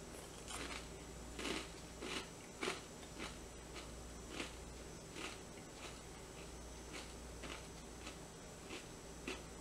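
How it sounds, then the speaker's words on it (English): Someone chews food spread with Vegemite or Bovrite, making steady, faint crunching bites at an even rhythm over a constant background hum. "It sounds like I'm chewing rocks."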